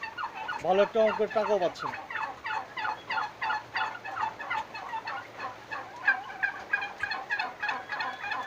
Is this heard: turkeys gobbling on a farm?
yes